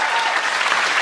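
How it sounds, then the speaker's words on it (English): Audience applause at an interview event, a dense, loud, steady wash of clapping filling the short moment with no gaps. "Can we just applaud her for"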